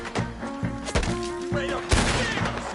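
Bursts of gunfire from a PS4 video game, several sharp reports in quick succession at moderate loudness under steady game noise and low background sound.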